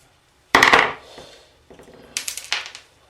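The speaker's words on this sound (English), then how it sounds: "I take all the screws out because it saves them dropping around all over the place." Small metal screws come out of a ceiling fan turbine, heard as sharp close clinks and rattles, one loud cluster of clatter followed by a few lighter taps and knocks in a quiet room.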